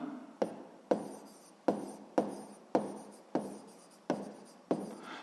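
Pen writing an answer by hand on paper: a series of about eight distinct scratchy strokes, each starting sharp and trailing off, close and clear with no talk.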